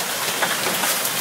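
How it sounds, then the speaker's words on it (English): Hail pounds down in a storm beside a trailer, a dense, steady hiss of many stones striking surfaces, loud and close with no pauses. "It's hailing."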